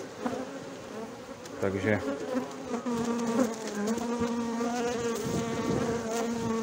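Honeybees hum loudly and constantly around an opened hive during an inspection of colonies with newly reared queens, a dense close swarm drone, with a brief spoken word over it.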